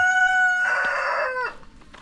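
A rooster crows loudly and close by, a long harmonic call with a clucking hen chiming in near the end, at a backyard poultry pen on a small Filipino home lot.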